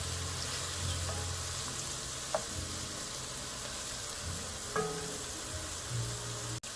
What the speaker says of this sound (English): The veggies are all nice and sauteed.